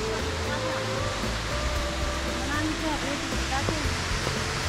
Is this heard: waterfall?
yes